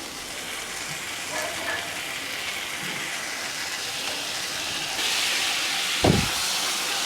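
Chopped tomatoes fry in a pan for a Tamil crab curry. A steady, close sizzling hiss runs throughout, grows slightly louder near the end, and a single dull knock sounds about a second before it stops.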